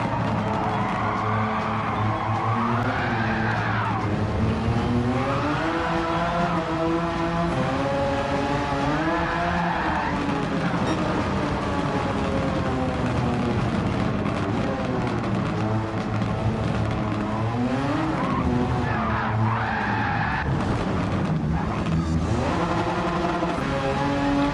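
Porsche 356 hard top in Gran Turismo 7 lapping a track, its engine revving loudly and continuously with rising and falling pitch through gear changes, tires squealing in corners, with no talk.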